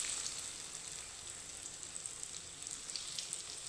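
Mung dal fritters fry in a pan of oil, giving a soft, even, continuous sizzling hiss at a moderate distance, with no voices.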